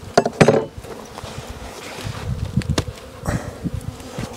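Dense, steady buzzing of many honey bees around a hive in an apiary at a ranch, with robbing under way, close and loud, with a few knocks of wood at the start.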